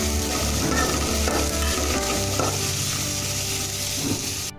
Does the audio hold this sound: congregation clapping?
no